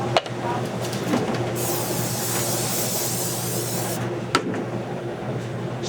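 Cooking spray hissing onto a pizza pan in a home kitchen, a steady airy spray of a few seconds in the middle, close, with light handling clatter and room noise around it.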